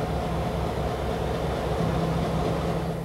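Steady, dense rumble of a passenger train running continuously for a few seconds, loud and unbroken with a low drone, no voices.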